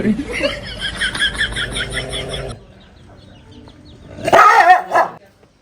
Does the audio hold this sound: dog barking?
yes